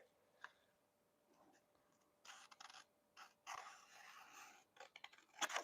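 Scissors snip through hoodie fabric in short bursts of crisp, close cutting with brief pauses between strokes and a faint click near the start.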